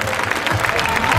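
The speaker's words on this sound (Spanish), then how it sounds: "vamos a dar un aplauso a todas las madres del mundo" A concert crowd at an outdoor town fiesta applauds for all mothers, dense steady clapping and cheering filling the space, loud and continuous with voices mixed in.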